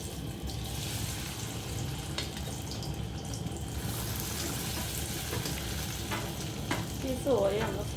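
Soy chunks frying in hot coconut oil in a pan give a steady, close crackling sizzle throughout, with a faint clink near the end.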